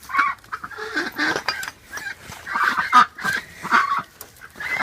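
Backyard ducks being let out of their coop during winter preparation give busy, overlapping quacks and honks in quick bursts, close by and loud.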